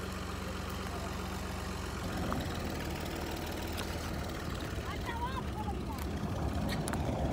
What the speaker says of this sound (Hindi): चल ट्रैक्टर